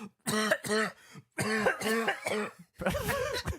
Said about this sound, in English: Coughing like he smoked a cigarette.